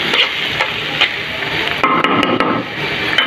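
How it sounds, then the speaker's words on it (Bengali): Fish roe being stirred in a hot frying pan, giving a dense, continuous loud sizzle with occasional clicks and scrapes of the spatula against the pan, close up and without voices. "ডিমগুলো দিয়ে দিচ্ছে, এবার ভালোভাবে নেড়ে দিচ্ছে।"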